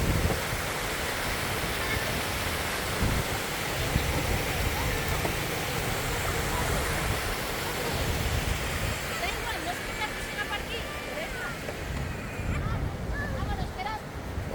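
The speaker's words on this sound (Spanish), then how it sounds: "Mira cómo baja el agua ahora" Rushing mountain water flows downhill in the Valle de Nuria after days of rain, a continuous broad roar heard up close, with voices talking over it.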